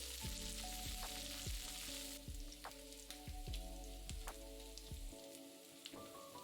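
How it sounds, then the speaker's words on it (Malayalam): Garlic, dried chillies, slit green chillies and curry leaves sizzle and crackle steadily in hot oil for a Kerala carrot mezhukkupuratti, with a series of soft scraping stirs. "3 വറ്റൽമുളക്, 3 പച്ചമുളക് നെടുകെ കീറിയത്, കുറച്ച് കറിവേപ്പില, ഇതെല്ലാം കൂടിയിട്ട് 1 മിനിറ്റ് മൂപ്പിക്കുക."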